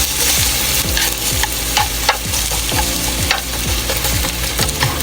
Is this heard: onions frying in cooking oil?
yes